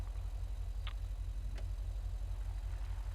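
A Crown Victoria police car engine in GTA 5 idles with a steady low rumble, a couple of faint ticks and clicks rising briefly above the drone.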